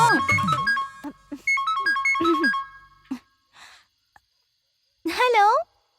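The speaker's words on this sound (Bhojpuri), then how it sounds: "इतना रात में केकर मिस कॉल आवत बा?" A mobile phone rings late at night with a bright, melodic ringtone of stepped tones for a few seconds, followed by brief voices and a short rising call.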